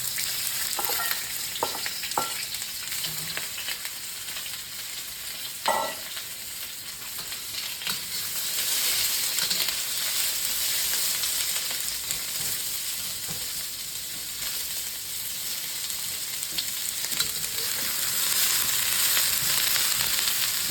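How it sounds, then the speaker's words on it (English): Ginger and onion fry in oil in a wok, producing a continuous hissing sizzle with occasional utensil clinks and stirring scrapes, steady and close for about twenty seconds with no speech. "Infusing the oil and browning the ginger."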